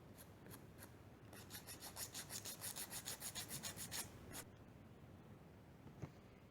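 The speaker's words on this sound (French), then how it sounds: "Là c'est sec, donc vous pouvez venir limer les imperfections." A nail file rasps over the imperfections of dried UV gel polish in quick, even back-and-forth strokes. A few strokes come first, then a steady run of about a dozen, close but faint, followed by near-silence.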